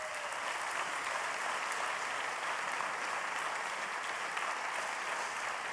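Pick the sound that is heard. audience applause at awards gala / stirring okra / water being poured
audience applause at awards gala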